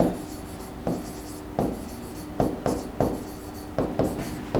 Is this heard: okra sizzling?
no